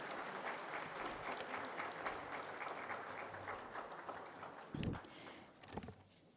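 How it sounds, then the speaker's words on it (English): Seminar audience applauding at a heavy haul railway conference, a dense steady clapping from a crowd that holds for several seconds and then thins out, with a few louder knocks near the end. "Ladies and gentlemen, let's have a huge round of applause."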